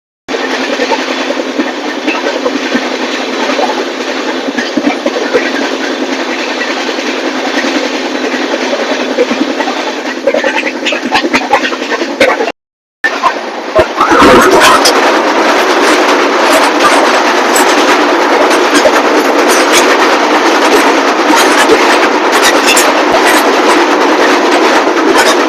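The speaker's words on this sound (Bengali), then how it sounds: "আসছে 12703 ফলকনামা এক্সপ্রেস হাওড়া থেকে সেকেন্দ্রাবাদ।" The 12703 Falaknuma Express, running from Howrah to Secunderabad, passes through a station with loud continuous rumbling and clattering wheels, growing harsher partway through as the cars roll close by, with no talk.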